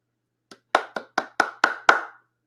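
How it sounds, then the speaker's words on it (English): A single pair of hands claps seven times in quick, even succession, close and alone in a quiet room, giving applause for a reader at an online literary social. "Please give a round of virtual applause for Nick Garnett."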